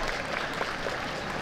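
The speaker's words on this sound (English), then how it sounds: "there's a cheer from the crowd" A crowd at a women's rugby match between Kazakhstan and Japan cheers and claps as an injured player is brought off the field, a broad dense wash of applause lasting only a moment.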